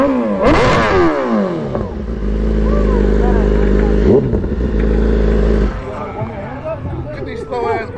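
A BMW S1000RR sport bike engine revs hard and loud nearby, rising in pitch, holding a steady roar, then easing off and revving briefly again at the end.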